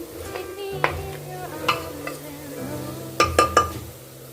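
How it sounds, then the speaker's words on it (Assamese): Chicken pieces frying in a pan of spiced masala for a chicken and bottle gourd curry, a light sizzle under stirring, with several sharp clinks of a utensil against the pan near the end. "মাংসখিনি দি দিলে ভালদৰে ভাজি লৈছোঁ"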